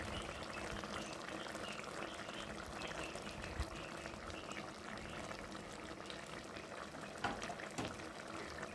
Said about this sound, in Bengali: তো দেখতে পাচ্ছ ভালোই ফুটে গেছে, আর ঝোল অনেকটাই মরে গেছে।